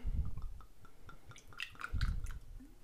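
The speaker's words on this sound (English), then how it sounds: "I've got butterscotch schnapps. Pour just a tiny bit of this in here." Butterscotch schnapps poured in a small splash into a drinking glass, heard as short close liquid drips and squishy trickles in two brief bursts.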